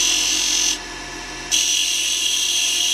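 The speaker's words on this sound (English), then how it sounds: "Turning a miniature spindle, take 2." Wood lathe spinning a miniature poplar dowel spindle, a loud steady high-pitched whine that drops away briefly midway and then resumes at full strength.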